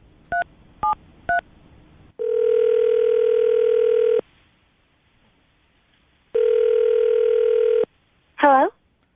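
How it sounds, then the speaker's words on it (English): A telephone call connecting: three quick dialing beeps, then a long steady ringback tone, a pause, a second long ring tone, and a short warbling chirp as the line picks up. "We're going to call her right now, see if we can get her on the phone"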